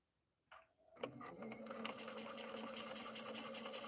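Janome Skyline S5 sewing machine running steadily while winding the bobbin, a continuous close whir with rapid mechanical ticking that starts after a brief click and holds at an even level.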